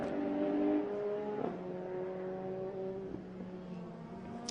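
An F3 race car runs laps at Mondello Park during an ICCR 2023 Round 3 race, its engine a steady, fairly distant drone that slides up and down in pitch as it works through the gears.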